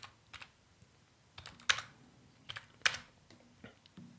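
Keys tapped on a computer keyboard in an irregular run of light clicks, with a few sharper, louder strokes, close by and with no talking.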